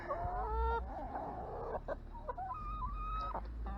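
Backyard laying hens cluck and murmur at their coop, with several close, drawn-out, warbling calls and short clucks overlapping over a few seconds, and no talking.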